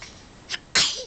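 A sharp, close sneeze bursts out after a short inhaled buildup, loud and sudden, followed by a faint trailing breath.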